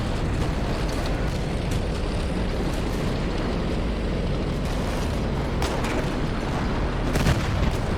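Tank guns and explosions in the video game Steel Fury form a dense, continuous rumble of battle. Heavy booms and blasts keep the level loud the whole time, with sharper cracks near the end.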